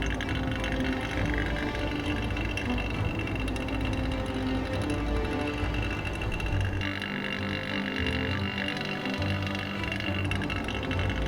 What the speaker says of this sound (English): A vacuum pump kicks in, removing all the air from the chamber.